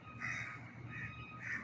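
Three hoarse caws from a black bird, spaced about a second apart, heard faintly from a distance over a low background hum.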